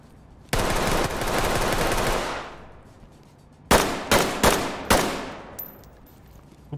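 Automatic gunfire in the video game Ready Or Not: a sustained burst of rapid shots, a pause, then several short sharp bursts, loud and close, with no talking.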